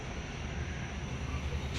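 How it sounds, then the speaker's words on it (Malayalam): A broad, steady roar of an airplane passing overhead, a dense rumble filling the short stretch without clear rise or fall. "ഇവിടെ ഒരു ഫ്ലൈറ്റ് പോകുന്നുണ്ട്."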